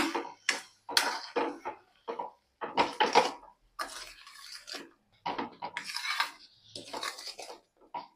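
A cup of sugar is stirred into a pot, making soft, intermittent scraping and clinking strokes of a utensil against metal, fairly quiet and close, with no talking.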